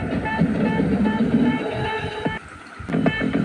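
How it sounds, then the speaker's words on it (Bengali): A toy train runs through Dheu Sagar park in Digha, giving a steady close rumble with a tonal mechanical hum and a brief drop partway through, with no voices. "টয় ট্রেন আছে।"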